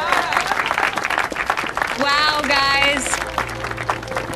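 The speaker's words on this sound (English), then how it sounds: "Give them a round of applause" A crowd gives a loud round of applause to newcomers who placed fourth in a holiday contest, with excited voices and bright musical tones mixed in.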